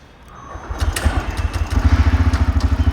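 A TVS Raider motorcycle, a five-speed bike, runs close by with its engine rising into a steady, rhythmic low pulsing that grows louder as the gears are changed. No one speaks.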